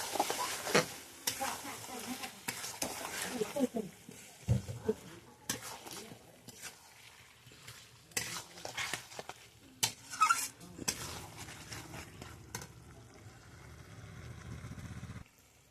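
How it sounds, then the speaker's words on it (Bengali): Cumin and coriander are stir-fried with spices in a pan over a clay stove: irregular scraping and clattering strokes of a spoon against the pan, with a soft sizzle between them and occasional voices nearby. "এবার ভালো করে কষাতে হবে মশলাগুলো দিয়ে।"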